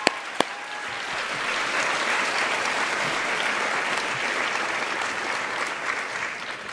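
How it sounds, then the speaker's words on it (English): Audience at a United Nations youth event breaks into steady applause, a dense, sustained clapping that follows two sharp knocks at the start, with no talk over it. "Another round of applause, I would say, for this amazing talent."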